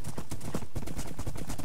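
Horse hooves pounding at a gallop in Minecraft, a steady rapid clip-clop rhythm, loud and close throughout with no talking.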